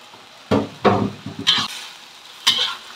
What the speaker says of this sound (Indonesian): tumis teri sama jantung pisangnya sampai merata